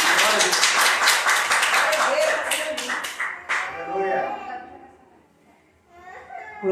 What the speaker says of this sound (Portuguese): Podeis aplaudir o nome do nosso Deus